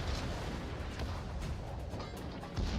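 Battleship main guns firing in World of Warships, a dense rumbling barrage of booms and blasts rolling continuously at low volume, heavy low-end thunder with sharper cracks on top.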